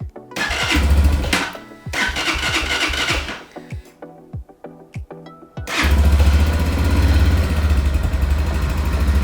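KPM 200 street bike's fuel-injected engine cranks in several short bursts with sputters and brief catches, then fires up and settles into a steady, loud idle close by.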